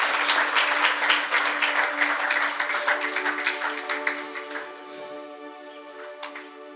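A church congregation applauds loudly together, dense sustained clapping that gradually thins and fades toward the end, with a few scattered claps lingering.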